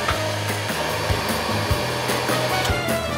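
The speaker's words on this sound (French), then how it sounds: "c'est un sèche-cheveux, tu vois, donc c'est tout facile" A hair dryer blows air into a blacksmith's forge fire, a loud, steady whooshing roar with an even hum that runs continuously without pause.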